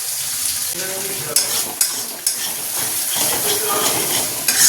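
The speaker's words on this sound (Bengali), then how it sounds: "এই যে মশলাটা ভেজে নিচ্ছি" Spice paste for egg curry fries in a pan with a loud, steady sizzle. A spatula scrapes and clinks against the pan several times, and a faint voice is heard now and then.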